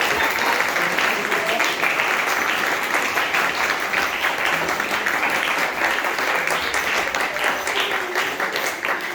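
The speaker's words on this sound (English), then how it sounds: "Give them a big round of applause" A graduation audience gives the graduates a big round of applause, with dense, steady clapping holding loud and unbroken from start to finish, and no talk over it.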